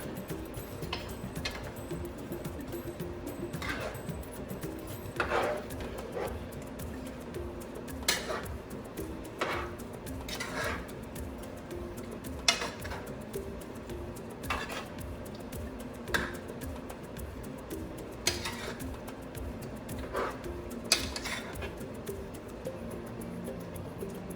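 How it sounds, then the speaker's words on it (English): A utensil scrapes and taps against a pan while curried vegetables are stirred, soft irregular clinks and scrapes spaced a second or two apart over a quiet background. "we're going back to stirring"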